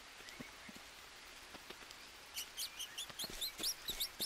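Rain patters in the survival game Green Hell, a faint steady wash with scattered drop ticks, joined midway by brighter chirping wildlife calls over the quiet shower.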